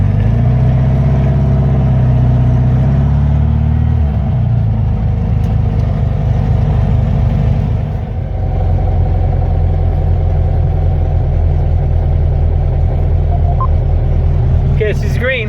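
A modified VW Beetle, the Sleeper Bug, drives with its engine droning steadily and loud up close, its pitch shifting as it shifts gears and settles into a steady cruise. No one talks.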